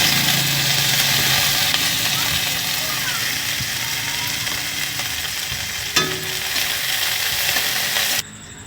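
Raisins sizzle and crackle in a hot pan, a dense, steady frying hiss that runs unbroken for about eight seconds and then cuts off abruptly near the end.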